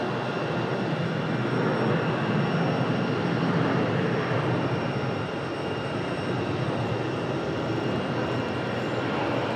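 A Delta airliner lands on runway 23 left at Raleigh-Durham International, a loud continuous broadband roar of engines and rushing air that holds steady throughout with no voices.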